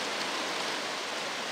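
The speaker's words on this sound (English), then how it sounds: "apparently it started raining while I was cutting" Steady rain falling outside a workshop, an even, soft hiss of drops with no breaks and no voices.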